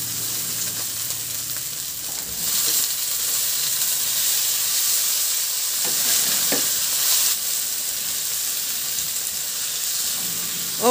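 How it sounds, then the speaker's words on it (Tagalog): Garlic and onion sauté in hot oil in a pan: a steady, close hiss and sizzle that swells louder partway through, with faint stirring scrapes and no voices. "At igisa ko na yung bawang at sibuyas."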